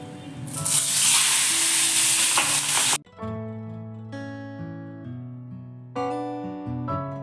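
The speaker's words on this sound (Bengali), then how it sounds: "তেল গরম হয়ে গেছে এবার আমি মাছগুলো ভেজে নেব" Pabda fish dropped into hot oil give a loud, close, crackling sizzle for about three seconds, then the sound cuts abruptly to background music.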